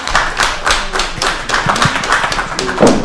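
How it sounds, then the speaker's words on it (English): A small audience at a community board meeting claps briefly, scattered hand claps and taps, fairly loud and close, lasting a few seconds. "Let's give them a round of applause."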